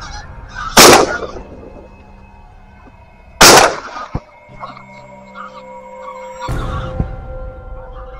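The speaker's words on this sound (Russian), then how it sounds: "Гусь стал возвращаться с кормежки на ночевку большим, шумным шалманом." Greylag geese honk repeatedly nearby over quiet ambience during a goose hunt in eastern Germany, punctuated by a few loud sharp gunshots.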